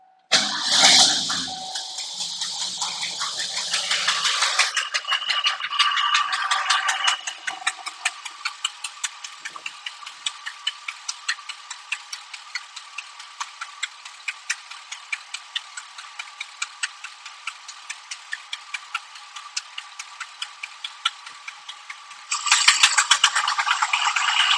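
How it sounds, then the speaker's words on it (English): A 1988 Ford F350 engine cranks and fires up, then settles into a steady idle with a fast, even ticking clatter, running close and loud for about twenty seconds before a brief rise in pitch near the end. "we're going to start the engine and see what happens"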